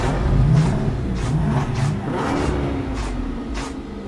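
A car engine revs up and roars before a street race, a loud, continuous engine sound throughout.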